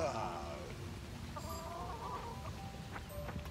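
A chicken in the farming video game Fae Farm clucks in a few short, soft bursts over a steady bed of game background sound.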